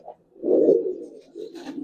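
Old-breed Giribaz pigeons coo in a few soft, throaty bursts close by, with a faint higher chirp near the end and no talking.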